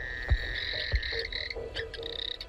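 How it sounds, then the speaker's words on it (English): Frogs croak at night on the South Alligator River in Kakadu during the wet season, a near chorus of repeated rasping calls and higher trills with a few low thumps, no voices. "many of Kakadu's frogs are now awakened by the rain and the explosion of insects it brings"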